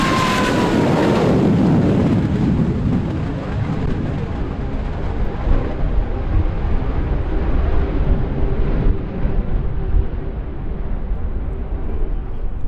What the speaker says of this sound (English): this year's show featuring no fewer than 3 examples of the MiG-17